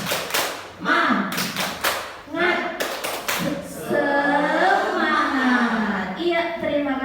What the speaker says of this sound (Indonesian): Semoga dengan tepuk semangat itu memang benar-benar akan membuat kita semangat